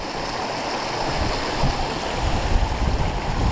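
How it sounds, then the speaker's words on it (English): The River West End runs down a clough in the Peak District, giving a steady, close wash of flowing water that holds even throughout with a slight breezy rush and no voices. "following the River West End down now"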